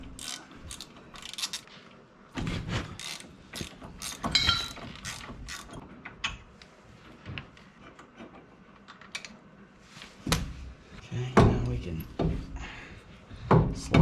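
A ratchet wrench works an 18 mm brake caliper bolt loose, with bursts of clicking ratchet strokes and metallic clanks scattered among quieter pauses, close up in a garage.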